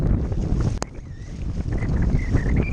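Strong wind buffets the microphone over choppy water around a Perception Pescador Pilot 12 fishing kayak in gusty winds of about 15, giving a loud, continuous roar with splashing and a brief knock.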